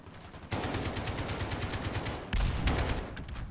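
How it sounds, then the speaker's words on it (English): Rapid automatic gunfire rattles nonstop in a Call of Duty Modern Warfare beta match, dense overlapping shots that get louder partway through, with no talking over them. "I don't even know what I'm shooting at anymore."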